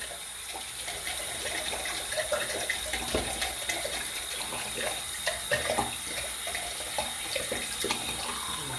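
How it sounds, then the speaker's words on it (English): Water runs steadily from a tap into a bathroom sink before shaving, a continuous close hiss with small splashy fluctuations and no talk. "So, get the water running."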